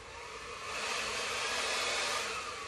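A hair dryer blows steadily on a fresh Dutch acrylic paint pour on canvas, a continuous airy whoosh that swells slightly partway through and stays close and fairly loud, with no talking.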